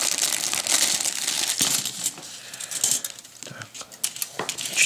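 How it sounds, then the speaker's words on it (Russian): Plastic bags holding parts of a Roden Fokker D VII model kit crinkle and rustle close up in irregular bursts, with faint handling noises and no talk over it. "В коробке мы имеем два пакетика."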